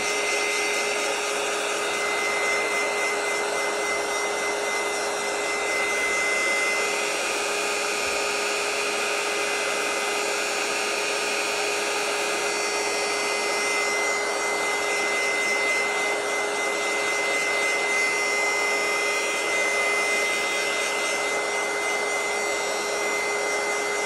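A handheld dryer blows steadily on an embossed craft journal page, a constant close whirring hum with a faint whine that holds unchanged from start to finish, with no talking.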